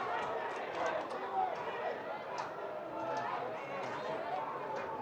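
A crowd of soccer fans at WakeMed Soccer Park makes a distant, even murmur of chatter and movement, fairly faint and continuous, with no single voice standing out.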